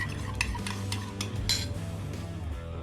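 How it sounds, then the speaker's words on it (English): A spoon whisking honey sriracha sauce in a bowl, giving a few quick rhythmic clinks and scrapes up close, loud and clear with no talking. "I'm just gonna give this a whisk, but I'm using a spoon here, just to get the sauce all ready to go"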